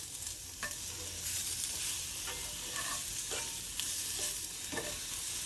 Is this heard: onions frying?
yes